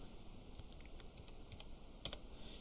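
Computer keyboard typing while an email address is entered, a faint patter of light key clicks with a couple of sharper taps near the end, steady and quiet with no voices.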